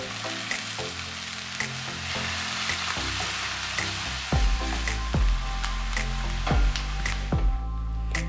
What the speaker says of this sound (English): Heat some oil, or you can use butter for extra taste. Saute sliced onions for 2 minutes or till it becomes a bit soft.